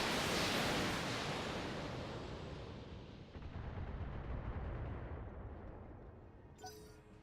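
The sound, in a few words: mech weapons firing on target in BattleTech video game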